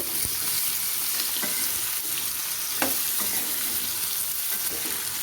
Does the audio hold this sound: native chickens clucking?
no